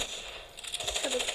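Money pickup effect in the video game Gangstar Vegas, a quick run of bright metallic coin-like jingles over a soft game backdrop.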